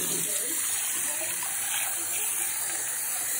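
Water pours steadily into a pot of dal on the stove, a continuous bright splashing gush that fills the whole stretch, close and fairly loud, with no talk over it.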